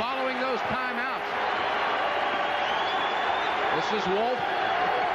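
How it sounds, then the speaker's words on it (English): A 1986 Maryland versus North Carolina college basketball arena crowd roars continuously in the background, loud and sustained, while a commentator talks over the noise. "Boy, the crowd has been in this ball game from the start."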